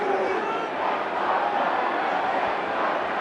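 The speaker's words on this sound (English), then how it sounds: "a tremendous crowd, it must be said, here at the home of rugby in the Jacaranda City" Packed rugby stadium crowd at Loftus Versfeld in Pretoria during a Bulls versus Sharks semi-final, a broad steady roar of spectators filling the air, with voices talking over it.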